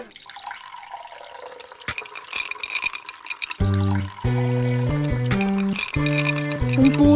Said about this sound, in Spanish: Un purificador de agua, purificador de agua.